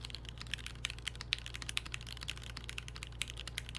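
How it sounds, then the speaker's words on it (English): Rapid, steady typing on a clacky custom mechanical keyboard with bright, sharp keystrokes in a continuous close-up stream and no talking. "Really clacky sounding keyboard, I dig it."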